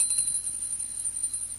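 A small bell on the hat of Noddy, the little man with the red and yellow car, rings on and on, a faint, steady high tinkling that repeats without pause and stays alone throughout.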